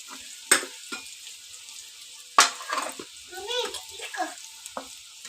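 Spices stirred into fried food in a pan, scraping and sizzling in a few short bursts near the microphone, with faint background noise between strokes.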